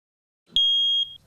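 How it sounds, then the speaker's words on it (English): One loud, piercing smoke alarm beep sounds for about half a second against near silence. "Awoke to the all too familiar sound of the smoke alarm."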